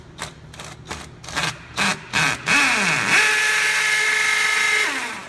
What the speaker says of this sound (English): We're going through masonry. With a 7/16 bit and on 2 on hammer drill.